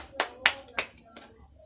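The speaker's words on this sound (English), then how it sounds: "Give an applause for Freya." A few people in a classroom give a student a short round of applause, four sharp claps spaced out, fairly faint and alone.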